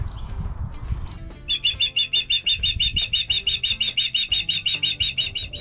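A rescued ambassador bird gives a long run of loud, rapid, evenly spaced shrill calls close by, the repeated notes pulsing in a steady rhythm after a brief softer lead-in.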